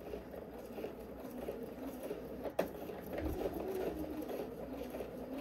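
Sewing machine stitching a garment, a steady close mechanical whir running throughout with one brief click partway through.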